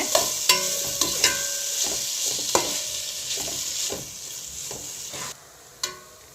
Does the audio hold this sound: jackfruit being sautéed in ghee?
yes